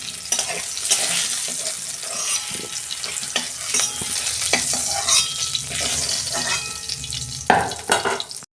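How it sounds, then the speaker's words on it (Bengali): Panch phoron spices and onion frying hard in hot oil after potatoes and eggplant were fried for a fish curry, a loud steady sizzle with stirring scrapes and clinks throughout, no voices. "ওই তেলে আমি 5 ফোড়ন দিয়ে দিচ্ছি।"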